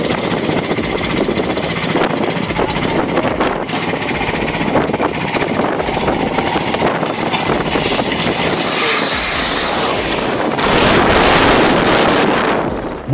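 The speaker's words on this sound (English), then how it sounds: "The plane roared overhead, passing close to the roof of the car." A loud, close airplane roars overhead, a dense engine rumble with a rushing, windy swell that peaks near the end.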